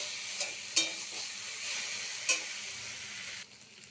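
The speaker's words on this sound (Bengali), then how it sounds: "মশলা দিয়ে এইভাবে কষাই করে নিতে হবে একটু" Fish roe sautéing in a pan with spices, green chilli and chopped ginger, a steady hiss of frying with a few sharp scrapes from stirring, close and moderately loud, ending in quieter sizzle.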